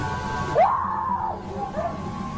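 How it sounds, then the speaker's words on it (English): A woman screams loudly while writhing on the ground after dropping her shopping, one sharp rising cry that holds and wavers for over a second, then trails into a fainter wail over low background noise. "screaming loudly."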